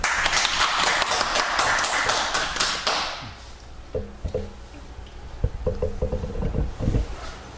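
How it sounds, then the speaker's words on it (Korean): Applause from a lecture audience welcoming a speaker to a Monday talk, a dense wash of many hands clapping that fades after about three seconds, followed by scattered taps and thumps. "박수로 맞아주시기 바랍니다"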